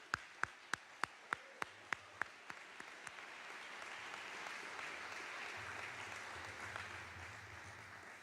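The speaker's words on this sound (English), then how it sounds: "a great round of applause" An audience applauds at an athletic hall of fame ceremony. A few sharp, separate claps come first, then they swell into a full, sustained round of clapping from the crowd, heard from a middle distance.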